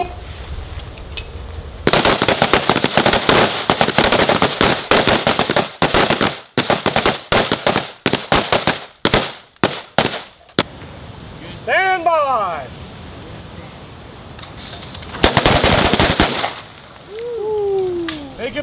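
Rapid rifle fire during Army marksmanship training, dense bursts of sharp cracking shots with brief gaps, loud and close, with voices heard between the volleys.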